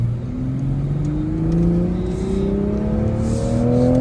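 A 2024 MK5 Toyota Supra 3.0 accelerates onto a freeway from inside the cabin, its engine note rising steadily through the gears with a loud, continuous drone and road roar, no speech.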